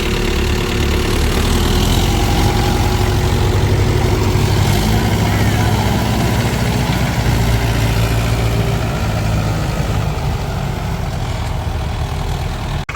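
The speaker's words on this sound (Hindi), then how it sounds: "ये दोस्तों ट्रैक्टर फंसा हुआ है खेत में। अब यहाँ से निकाला जा रहा है।" A tractor engine runs loud and steady close by as it pulls another tractor stuck in a muddy farm field, its constant low rumble unbroken for the whole stretch.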